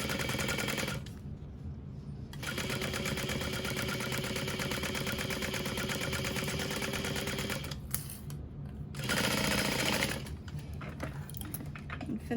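Sewing machine back-stitching a bag seam for reinforcement, a loud, fast mechanical rattle running in long stretches, broken by two brief pauses before it resumes, close and without speech.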